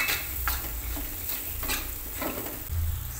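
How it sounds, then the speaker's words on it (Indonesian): Spice paste for Javanese fried noodles stir-fried in a pan: a soft continuous sizzle with occasional spatula scrapes and light taps, close but fairly quiet, no voices. "Kita tumis sampai bumbunya matang, biar bakminya nanti enak."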